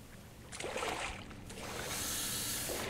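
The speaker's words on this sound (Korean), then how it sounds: "물소리?" Running or rushing water in an eerie Backrooms game level, a steady wash of broadband noise that swells and holds, moderately near, with a couple of louder surges early on and no voices.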